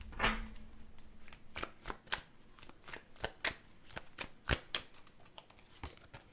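A deck of tarot cards gets shuffled and a card drawn, producing a steady series of close, crisp snaps and flicks with no talking.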